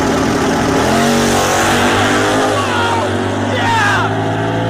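The Crusher Camaro drag car launches at full throttle, its engine bouncing off the rev limiter in a loud, close, ragged buzz that then climbs in pitch as the car pulls away, with excited shouting over it.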